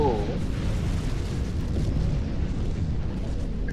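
A deep, roaring rumble of a starship containment field collapse explosion in Star Trek Online fills the clip, a sustained low boom with crackling debris that lingers without fading much.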